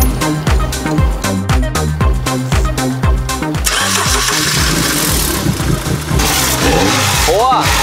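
An MG ZR 2.0 Turbo car engine cranks with a fast, rhythmic starter chug, then catches after about four seconds and runs loudly and roughly close by, with a brief rev near the end.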